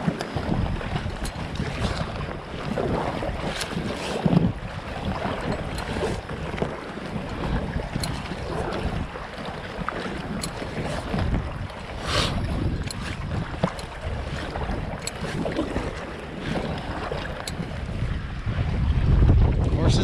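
Strong headwind gusts roar across the microphone while canoeing on a whitecapped lake near shore, a steady rushing buffet with water slapping against the hull, loud and continuous throughout.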